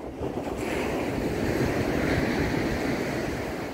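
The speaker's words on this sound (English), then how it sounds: "It's a little real low waves today." Low ocean waves wash steadily onto a beach as the tide comes in, a continuous broad rush of surf close by with wind buffeting the microphone throughout.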